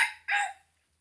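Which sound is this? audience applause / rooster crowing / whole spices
rooster crowing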